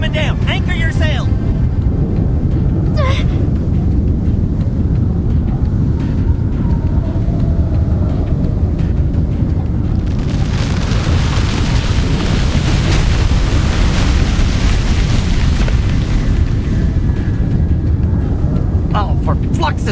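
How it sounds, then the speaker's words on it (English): Roaring avalanche of falling snow in the Reverse: 1999 video game, a continuous loud rumbling wash that swells midway, with voices calling out over it. "Avalanche incoming! All units change course!"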